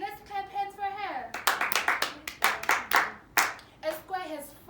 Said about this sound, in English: Great, let's clap hands for her.